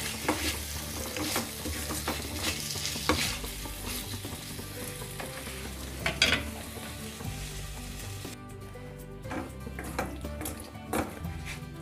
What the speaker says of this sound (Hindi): और इसे भी अच्छे से पनीर के साथ हम मिक्स कर लेंगे।